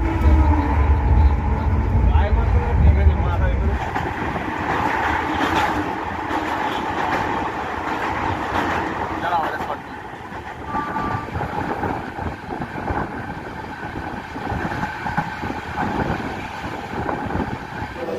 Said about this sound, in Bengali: ট্রেন আমাদের ব্যান্ডেল স্টেশনের 4 নম্বর প্ল্যাটফর্মে ঢুকলো